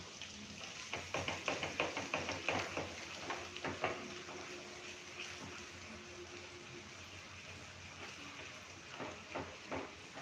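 Gram flour roasting in oil in a pan, with a run of soft, close knocking and stirring taps in the first few seconds over a low, steady sizzle, then quieter scraping near the end.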